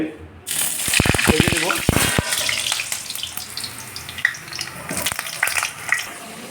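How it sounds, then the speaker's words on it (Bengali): Potatoes frying in hot mustard oil in a kadai give a loud, close sizzle, with sharp clatters from a spatula or pan at first, then a steadier hiss with scattered pops. "আলুগুলো ভাজা হয়েছে"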